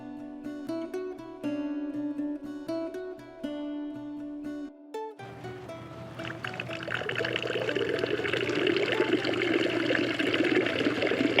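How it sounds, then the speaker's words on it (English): Water starts gurgling and pouring in a Campania International cast stone urn fountain, building into a steady splashing flow that grows louder, after a stretch of tonal music-like sound at the start. "I hear the water gurgling up in the top, so I think it is working"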